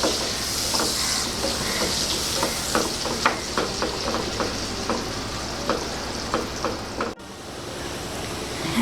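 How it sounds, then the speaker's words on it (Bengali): Chopped onions fry in hot oil toward a golden brown, giving a steady sizzle and crackle with repeated stirring scrapes, close and fairly loud, for a chicken-and-prawn malai curry base. "এখন পেঁয়াজটাকে আমি বেরেস্তা কালার করে ভেজে নিব।"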